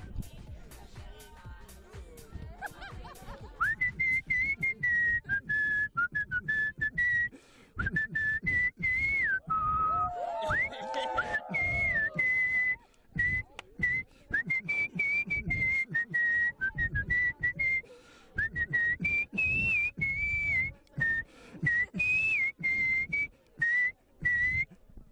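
A man whistles a song at length, a continuous clear melodic line close to the microphone with brief pauses, while other voices and noises break in occasionally.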